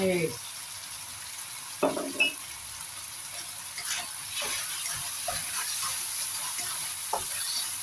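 Beef stir-frying in a hot pan after a splash of Chinese cooking wine, a continuous bright sizzle and hiss with a few scraping stirs early on, close and steady with no talk.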